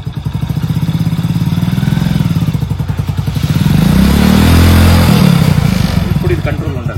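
A motorcycle engine chugging steadily as a learner works the clutch and gears, its rhythmic thumping swelling into a throatier rev midway before easing back, loud and close.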